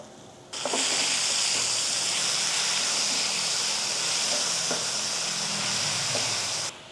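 Garlic, onion and shrimp paste sautéing in a little oil: a loud, steady hiss-sizzle bursts in suddenly and holds evenly for several seconds before cutting off, close up, with faint stirring knocks underneath.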